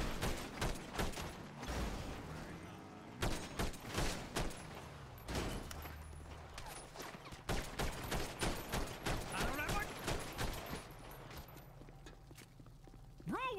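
Gunfire in the video game GTA, from a hide and seek game for a car: rapid bursts of shots crackle repeatedly, loud and close, with players talking over the shooting.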